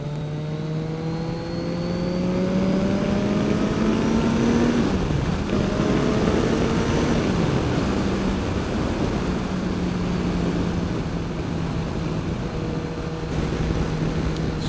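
Car rolling along a gravel road covered in layers of loose gravel around the turns, with a steady engine drone and rising and falling gear changes under continuous crunching tire noise, no talking.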